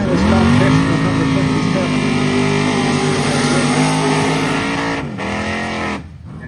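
Drag racers, a 6-liter Camaro and an 82 Mustang, roaring loudly at an airport drag strip, a sustained heavy engine drone that drops off near the end, with an announcer talking over it.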